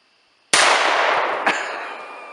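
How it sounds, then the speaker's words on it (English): A single-shot 12-gauge shotgun fires one loud, sharp blast outdoors, followed by a long decaying rumble and a second faint crack about a second later. "We're using Arnie's single shot 12 gauge, which has all the recoil"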